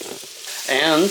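Meat and onions browning in a frying pan, a close, steady sizzle lasting about a second, with a voice speaking over the latter part.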